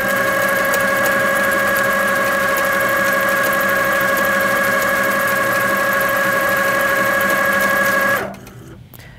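An HQ Sweet Sixteen quilting machine stitches at 50% speed, a loud, close, steady mechanical hum with a fast stitching rattle that runs unbroken for about eight seconds, then stops abruptly.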